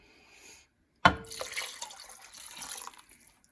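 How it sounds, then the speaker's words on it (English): Liquid is poured into a hot pan of browned rice for chicken biryani, starting with a sudden splash and sizzle, then a continuous bubbling, hissing pour that gradually eases off. "now I'm just going to add the rest of the liquid"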